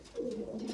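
Domestic pigeons kept at home give a single low, throaty coo, close by and brief against faint room background.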